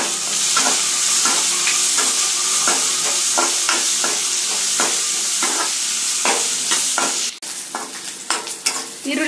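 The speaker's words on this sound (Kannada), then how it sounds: "ಈರುಳ್ಳಿ ರೋಸ್ಟ್ ಆಗಿದೆ ಚೆನ್ನಾಗಿ." Onions with green chilli and turmeric fry in a pan, a loud continuous sizzle punctuated by regular scraping stirs. The sizzle drops abruptly near the end, followed by a few looser stirring clatters.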